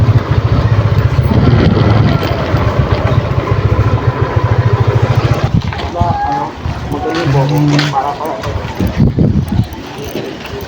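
A motorcycle engine idles with a steady low putter, close by, while people talk over it and the engine note shifts near the end.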